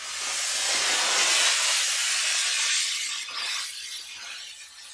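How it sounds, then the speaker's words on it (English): A Chief Steamer 155 steam cleaner (240 volt) sprays steam onto the side of a car, a loud, steady hiss that eases slightly toward the end. "We're always working with a decent amount of steam pressure."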